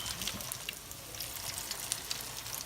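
Salmon patties frying in hot oil on a stovetop, a steady soft sizzle with scattered crackling pops, fairly quiet and close.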